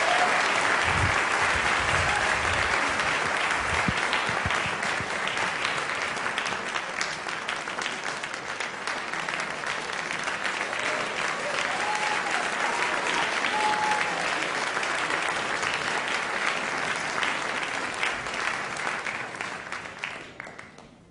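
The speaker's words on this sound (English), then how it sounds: "I just want to actually invite one more round of applause to Bob Rosenkranz" A large audience applauds debaters as they come onto the stage, a long, loud, unbroken wash of clapping with faint voices mixed in, holding steady for about twenty seconds before tapering off.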